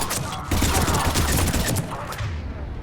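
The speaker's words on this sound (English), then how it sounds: "Let's try an Inferno grenade." An Inferno grenade goes off in the Mass Effect 3 video game amid a firefight, a dense crackling burst of blasts and rapid gunfire that keeps going for a few seconds before it thins out.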